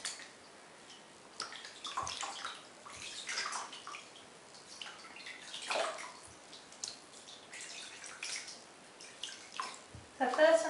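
Water splashing and pouring over a guinea pig in a bath, soft irregular trickles and splashes close by, fairly quiet, with a low electrical hum underneath.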